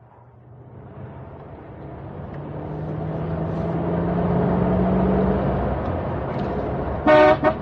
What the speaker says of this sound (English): I think there's a car following us, Mr. Hayward.